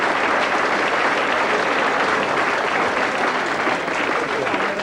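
Sustained audience applause fills a comedy club, dense and loud clapping from a crowd that continues evenly with no voice on top.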